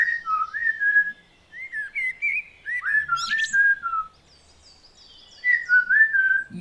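A person whistles an imitation of blackbird song: fluting, warbling phrases in short bursts with pauses between, close and clear, with no other sounds.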